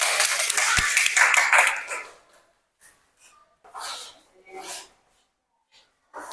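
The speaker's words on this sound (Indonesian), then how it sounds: "Kita beri aplaus untuk kelompok 1." Classmates applaud a student group in a classroom, a dense burst of clapping lasting about two seconds that quickly dies away, followed by scattered brief sounds and murmurs.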